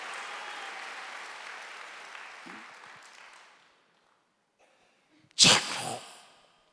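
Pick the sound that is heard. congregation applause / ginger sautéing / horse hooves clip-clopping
congregation applause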